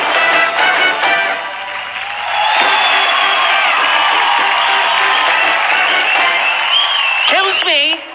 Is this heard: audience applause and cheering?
yes